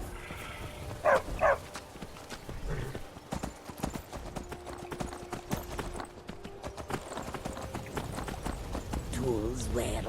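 Horse hooves clip-clopping at a steady rhythm while riding in the video game Skyrim, with a brief whinny near the start and someone talking over the galloping.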